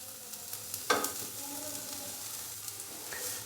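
Chopped onion fries in hot cooking oil in a pan, a steady quiet sizzle with a sharper crackle and stirring scrape near the start, continuing evenly after.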